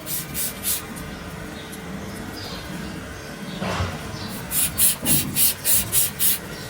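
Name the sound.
washing a cow's hoof during hoof trimming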